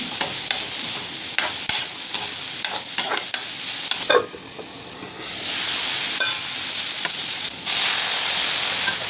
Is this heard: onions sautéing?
yes